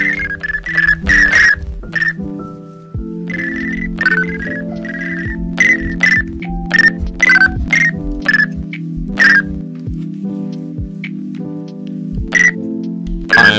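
Custom hit sound effects from a Minecraft PvP resource pack fire again and again as players are struck: short whistle-like tonal blips in irregular bursts over a steady backing tone.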